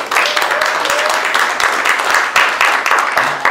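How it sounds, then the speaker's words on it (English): A church congregation at a Presbyterian Sunday celebration service claps loudly and continuously throughout, with a faint murmur of voices beneath the applause. "But I think they deserve a round of applause."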